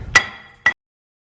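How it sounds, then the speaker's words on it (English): Two sharp metallic hammer blows strike the front brake rotor of a 2006-2013 Mercedes-Benz S-Class W221 to free it, the first ringing briefly, the second following about half a second later, then silence. "With some beats from a hammer, we were able to get this free."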